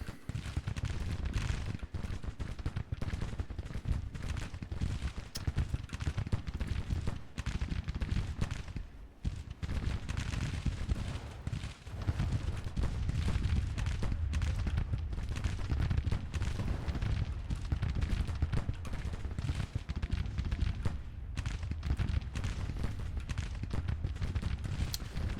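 A Civil War battle in Grand Tactician: The Civil War rumbles with dense, distant massed musketry, a constant crackling roll of rifle fire with occasional heavier thumps, holding steady throughout.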